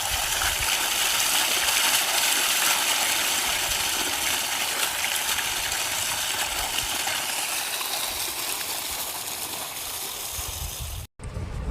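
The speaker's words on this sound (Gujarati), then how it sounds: "તો અહીંયા આવે છે પાણી।" Water from a 2,200-foot pipeline pouring into a village farm field, a steady, loud rushing gush that holds constant for the whole stretch, broken by a brief dropout near the end. No one speaks.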